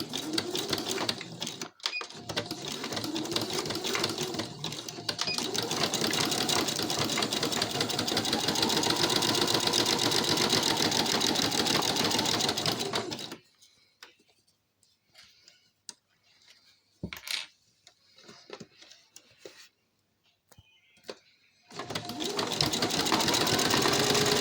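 Sewing machine running zigzag stitches to attach elastic onto a fabric face mask, a loud steady whirring with rapid ticking for about thirteen seconds, then brief stops and short bursts before sewing resumes.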